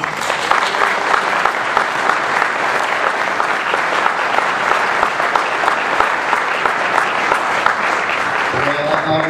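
An audience at a Butte College outstanding alumnus ceremony honoring Bill Berryhill bursts into loud, sustained applause, dense clapping from a large crowd continuing steadily throughout.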